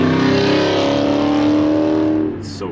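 A loud Dodge SRT engine roars steadily at high revs, then the sound drops off as it pulls away near the end.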